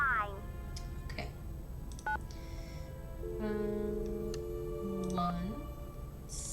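A telephone number being keyed in Nancy Drew: The Secret of the Scarlet Hand, a series of short close dial tones, one after another with uneven gaps, beside brief chirps and a falling electronic tone.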